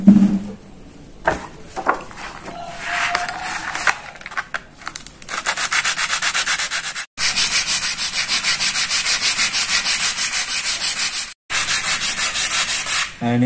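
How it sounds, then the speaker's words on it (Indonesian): Sandpaper rubs against a guitar bridge in close, repeated back-and-forth strokes, with a few quieter fumbling moments and brief pauses between runs of steady scraping. "Nah, ini caranya kita amplas. Pakai amplas tadi."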